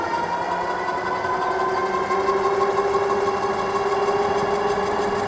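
A Hynox Trooper X dual-suspension e-bike motor runs on throttle with a steady electric whine and humming drone, constant and close, without talk.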